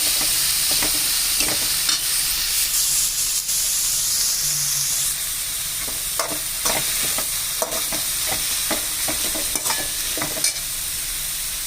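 Boiled banana stem sautéing in a pan, a steady broadband sizzle with frequent clicks and scrapes of stirring, close and fairly loud, with no voices.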